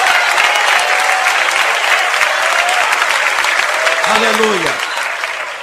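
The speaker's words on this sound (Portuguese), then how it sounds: "Mais fortes as palmas que louvam o nome do Senhor Jesus." A church congregation claps loudly and steadily throughout, a dense wash of palms under a preacher's voice that calls out over it near the end.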